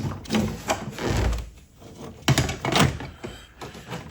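A plastic door trim cover is pried off a 1998-2004 Chevrolet S10 door, producing a series of close, dull thunks and scraping clicks spaced irregularly across the moment.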